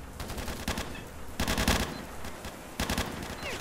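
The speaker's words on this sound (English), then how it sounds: "And they're shooting through the freaking walls." Bursts of automatic gunfire in S.T.A.L.K.E.R.: Shadow of Chernobyl, with enemies firing through walls. Three separate volleys of rapid shots come at a steady mid distance, with no talking over them.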